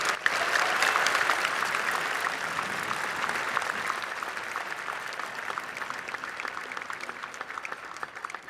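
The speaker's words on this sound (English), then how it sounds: "Round of applause as they join us on stage." Sustained applause fills a graduation ceremony hall as a family joins the stage, a dense crowd clapping loudly at first and tapering slightly over several seconds.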